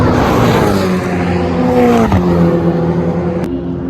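Race cars, including a Porsche 992 GT3, roar around the Dijon-Prenois circuit, one engine's pitch climbing then dropping as it passes close and loud, with a sharp click near the end.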